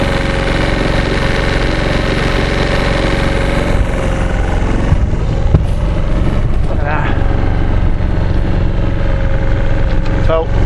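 A sailboat's engine runs steadily at a low idle on a calm Irish Sea day, a loud, close, unbroken drone with faint knocking, and people talk occasionally beneath it.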